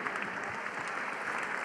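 Brief, soft applause from a charity gala audience, a steady wash of distant clapping with a faint crowd murmur under it.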